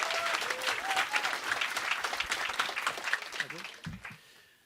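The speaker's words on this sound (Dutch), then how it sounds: "heel groot applaus voor Oebele Fries" Loud applause from a live audience for performer Oebele Fries at a Viking-themed show, dense clapping with a couple of brief whistles, fading out over the last second.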